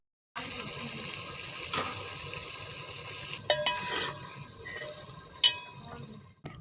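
Potatoes being stirred into spice masala in a pan for an aloo gajar matar sabzi, a steady soft scraping and sizzling with a few sharper clinks of the spoon, close by and without talk.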